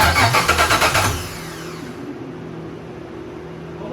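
A 1984 Pontiac wagon engine cranks loudly up close in about a second of rhythmic starter pulses without catching, then drops to a quiet low hum.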